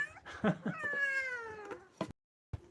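A cat gives a drawn-out, rising and falling meow, close and fairly loud, followed by a few short scuffling noises and a brief silence.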